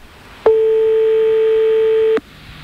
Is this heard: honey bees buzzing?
no